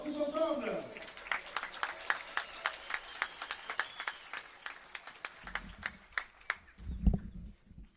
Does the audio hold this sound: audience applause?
yes